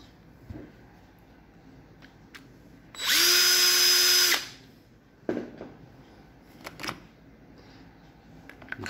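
A cordless drill whirs for about a second and a half, loud and close, backing out screws from a Milwaukee M18 BPD drill being repaired, followed by light clicks and handling of parts with no talking.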